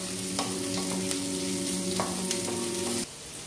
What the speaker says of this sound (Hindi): सब्जी के लिए प्याज और हरा मिर्च फ्राई हो रहे हैं